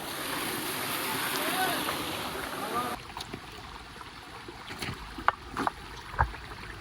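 Cold water from a mountain stream on a rainy trek up Kudremukh rushing steadily into a bottle, close by, followed by quieter stream flow with a few knocks and clunks; people can be heard talking.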